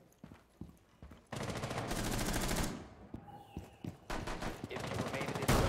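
Rainbow Six Siege gunfire: scattered single shots and footsteps, then a long loud automatic burst, a pause with a few shots, and another rapid burst at the end, close and intense.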